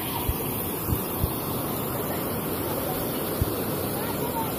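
Rushing water from a waterfall in a natural outdoor setting, a constant broad roar with a few faint thumps mixed in, steady throughout.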